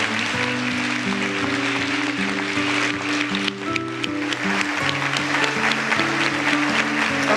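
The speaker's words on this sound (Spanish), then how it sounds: "Este es el aplauso único que solicitábamos." A crowd applauds at a formal ministerial event, a dense, continuous patter of clapping that stays loud and steady throughout.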